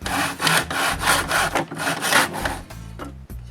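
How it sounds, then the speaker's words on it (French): Wooden window mouldings being cut with a hand saw, a steady back-and-forth rasping of close, loud strokes that ends with a few short final cuts. "Maintenant, je peux couper les moulures qui vont retenir les vitres."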